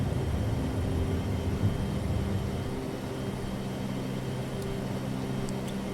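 A Boeing 737-200 climbs out after takeoff in the Prepar3D flight simulator, with a constant broad engine roar and a low hum holding steady, and no talk.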